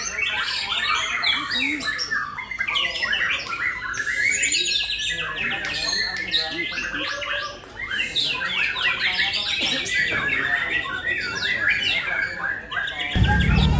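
A tame songbird fed on ant eggs chirps and squawks in rapid, bright bursts, close and loud, calling almost continuously with only a brief pause.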